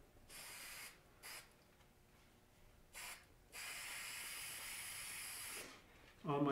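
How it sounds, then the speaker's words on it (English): Several short hissing spray bursts followed by one long steady spray of spray adhesive from an aerosol can onto paper, fairly close, ending in a brief clatter. "put some spray adhesive"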